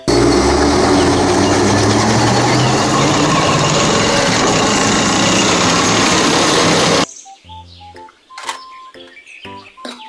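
A toy steel tank rumbles with loud, continuous, noisy motor and effects sound for several seconds, then stops sharply and gives way to a sparse run of electronic beeps and chimes.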